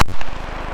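One sharp, loud gunshot cracks at an outdoor gun range, then a fading echo and ring trail off for under a second.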